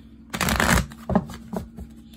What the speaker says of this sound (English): Live shuffle for Sagittarius.